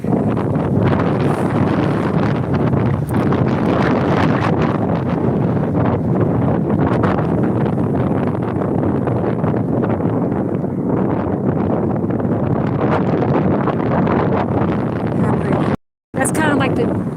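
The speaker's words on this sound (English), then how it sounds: "I'd say the wind has not stopped" Strong wind buffets a microphone outdoors on a cold evening at sunset in Tulsa, Oklahoma, a steady loud rumbling roar with gusty surges throughout, cutting out briefly near the end.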